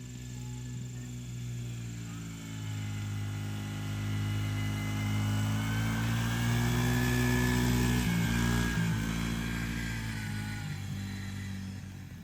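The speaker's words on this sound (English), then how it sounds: "you can hear it getting in high RPM and when he really gets on that throttle" A Yamaha YFZ 50 youth quad's small engine held at high RPM, a steady buzzing drone with strong harmonics that swells as the throttle opens, then dips briefly and climbs again, fairly close and continuous throughout.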